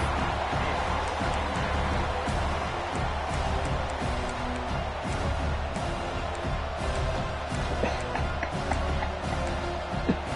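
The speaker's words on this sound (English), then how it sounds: "This crowd is fired up." Stadium crowd in an NCAA football video game, a steady dense roar of cheering that fills the whole stretch at a moderate level, with faint bits of voice mixed in.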